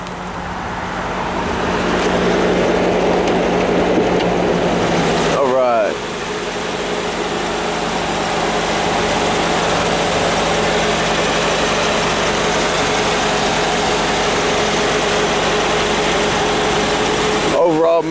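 A Mercedes CLS 500 on 19-inch wheels idles steadily with its hood open, a low, even engine hum running throughout with a brief disturbance partway and faint background noise.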